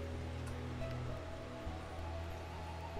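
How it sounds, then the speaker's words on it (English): Water trickling steadily from a drip system in a paludarium at night, a continuous soft splashing wash with low hum beneath, close and even throughout with no talk. "This time of night, the drip's running"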